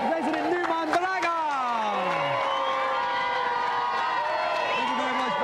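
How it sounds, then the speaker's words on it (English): A TV game show studio audience cheering and whooping with loud, excited voices layered together, continuous throughout, with applause mixed in beneath the shouting. "Round of applause"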